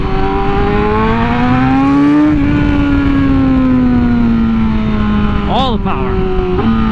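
Superbike engine, one of a Yamaha R1M, Kawasaki H2, Honda Fireblade RR-R or BMW S1000RR, revs loudly through its exhaust with a steady rising and falling note, then quick sharp blips near the end, heard up close and continuous.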